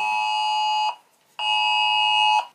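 A loud, shrill emergency alert tone from an iPhone sounds twice, each steady blast lasting close to a second, separated by a short gap.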